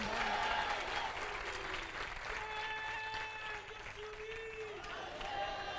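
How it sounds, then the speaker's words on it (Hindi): A crowd at a church convention applauds loudly and continuously, clapping steadily with voices mixed in, close and full throughout. "तालियां"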